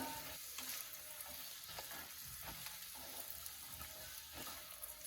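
Peanuts tossed into a hot pan fry with a steady sizzle and occasional stirring scrapes, close and alone with no talk.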